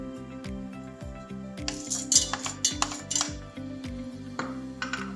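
Cooking oil and cardamom go into a metal pan on a stove for a sweet vermicelli dessert, with close clinks and scrapes of utensils against the pan at an irregular pace.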